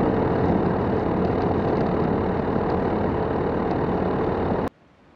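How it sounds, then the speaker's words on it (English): A Rotax 912 100-horsepower light aircraft engine idles in cold weather with a steady, rough rumble, loud and close, before cutting off abruptly near the end. "this airplane has the Rotax 912 100 horsepower engine"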